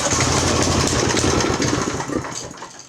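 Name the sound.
Craftsman 5hp rear tine tiller engine running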